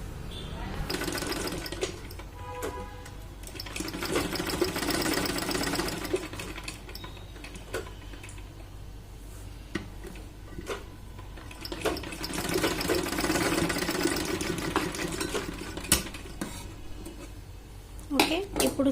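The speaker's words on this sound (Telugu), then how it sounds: "ఇట్లా చుట్టూ కూడా స్టిచ్ అయితే వేసేసుకోవాలి." A sewing machine stitches around the edge of an umbrella frock's fabric, running in long bursts of rapid whirring with brief pauses between them, close and fairly loud.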